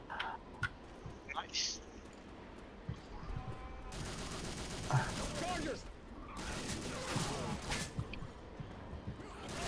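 Sniper rifle shots and other gunfire ring out in the zombie shooter Left 4 Dead, in scattered sharp cracks and denser volleys, mixed with game noise and players talking.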